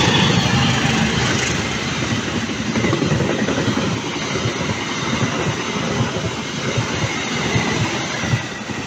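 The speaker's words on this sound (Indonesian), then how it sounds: "Wah, ini ada kereta yang lintas dari arah Jogja." A Bogowonto economy passenger train rushes past close by at Kutowinangun station, Indonesia, a continuous loud roar of wheels and rails with faint rhythmic clatter, no voices.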